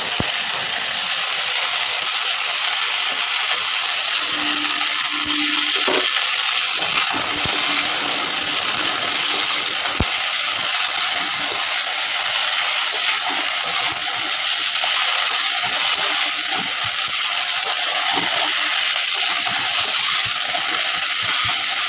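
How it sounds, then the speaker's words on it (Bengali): Vegetables fry in a hot pan, ahead of adding daliya and washed mung dal, giving a loud, unbroken sizzling hiss that holds steady throughout with only faint clinks beneath. "সবজিটা একটু ভাজা ভাজা হোক"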